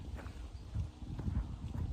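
A horse's hooves clip-clop on the ground near a step-up box during a standing-still training session, giving several soft, close, uneven footfalls over two seconds.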